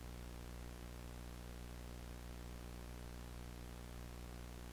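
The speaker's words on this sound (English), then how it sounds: "mix all of that in with some static and some sound effects of just the VHS tape running" Steady, unbroken hiss of analog static mixed with the low hum of a running VHS tape, an even noise bed lasting throughout with no voices.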